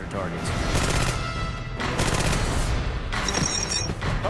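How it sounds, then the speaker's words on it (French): Rapid bursts of Thompson submachine gun fire in a video game, loud and continuous with sharp crackling shots in several runs, under busy game noise with faint voice-like sounds mixed in. "Il a une cadence de tir plus rapide. Il tire 700 coups par minute."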